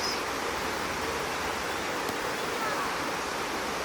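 A rainforest waterfall at Curtis Falls pours with a steady, soft hiss of falling water, constant and moderately distant, with no talk over it.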